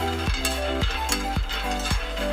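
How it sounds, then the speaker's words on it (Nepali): Peanuts fry in a pan for a nut-and-seed baby food powder; a utensil scrapes and stirs them in a regular rhythm about twice a second, close and fairly loud, with a steady tonal hum underneath. "अब हामी त्यही भाँडामा बदामलाई फ्राई गर्छौं।"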